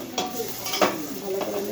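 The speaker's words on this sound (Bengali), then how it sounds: "আমি কাজু কিশমিশ ভেজে নিয়েছি এই যে হালকা করে" Cashews and raisins frying in a pan for basanti polao, with a soft sizzle under three distinct scraping stirs spaced across the short stretch.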